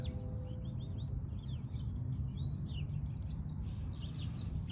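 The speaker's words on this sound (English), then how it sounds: "And I got the birds chirping." Birds chirp and tweet outdoors near Tucson, with many bright calls scattered across the clip over a steady low background rumble.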